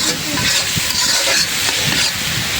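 Malabar spinach greens sauté in oil in a home kitchen, with a loud, close sizzle and scraping stir strokes coming in uneven bursts over the steady frying hiss. No one speaks.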